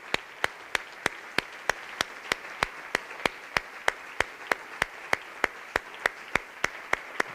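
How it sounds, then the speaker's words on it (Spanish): At an awards gala, the audience claps in unison in a crisp, evenly spaced beat of roughly three claps per second, held steady and fairly loud throughout. "ese fuerte aplauso para toda esa familia"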